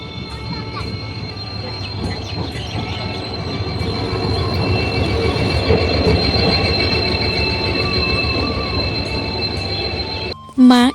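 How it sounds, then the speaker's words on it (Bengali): A train pulling into a railway station, with a long steady rumble of wheels on rails and high metallic squeals from the wheels building over several seconds, then a sharp loud burst near the end. "এই তো ট্রেন ঢুকছে"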